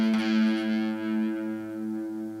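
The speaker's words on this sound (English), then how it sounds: "As I start twisting it upwards, you'll hear the wobble get slower and slower." A sustained fretted guitar note rings out with a pulsing wobble that gradually slows as the string is tuned up and the pitch settles, fading steadily over a couple of seconds.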